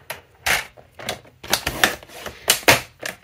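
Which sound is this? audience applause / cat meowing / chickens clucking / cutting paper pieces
cutting paper pieces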